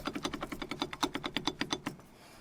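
Rapid rhythmic clicking rattle from the brakes of a Nissan Patrol Y60, about fifteen sharp evenly spaced ticks over two seconds, close and moderately loud, then stopping.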